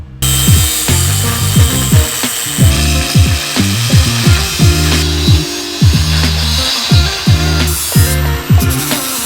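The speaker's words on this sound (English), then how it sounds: "Now I just gotta cut our notch down here." A power tool cuts a notch in metal during a welding repair, its motor whining loudly and dipping in repeated short bursts as the cut goes in, with no talking.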